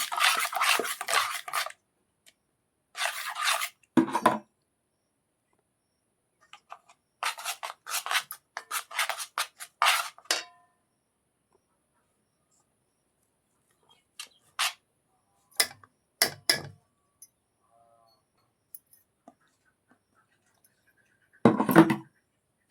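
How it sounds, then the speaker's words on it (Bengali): Flour dough is worked in a bowl by hand, giving intermittent soft rubbing and squishing bursts with long quiet gaps between them. "অল্প অল্প করে ময়দা দেব, এটাকে মাখাবো।"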